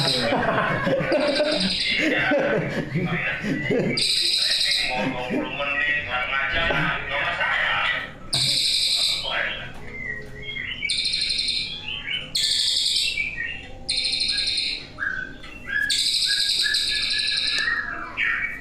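Murai batu (white-rumped shama) singing without a break, bright whistled phrases and rapid chattering trills repeating close by, with a rooster-like call early on and people talking faintly underneath.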